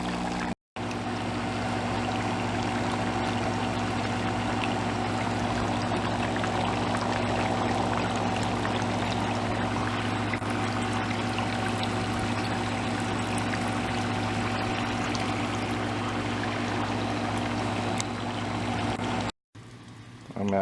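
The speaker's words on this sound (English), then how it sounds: "I'm out here at the harvest and rinse table, and I'm rinsing these off." Water runs continuously over freshly harvested fava bean sprouts at an outdoor harvest and rinse table, a steady loud splashing rush that barely changes and is briefly cut off twice.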